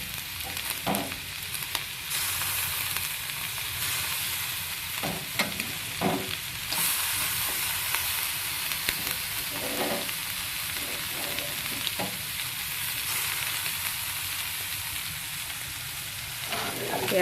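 Onions frying in a pan for chicken shawarma give a steady close sizzle, broken now and then by soft scrapes and clacks of stirring.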